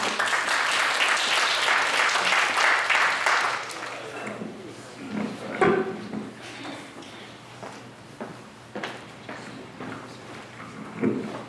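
Applause from an audience welcoming a saxophone player at a literary evening, a dense burst of clapping for a few seconds that fades into scattered claps, footsteps and room noise, with a last flurry at the end.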